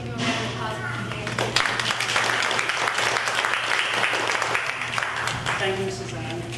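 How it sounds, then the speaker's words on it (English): An audience at a Peking Opera workshop in Toronto applauds, a dense wash of clapping that swells in the middle and fades toward the end, with voices and a low steady hum underneath. "I'd just like to give you a round of applause for today"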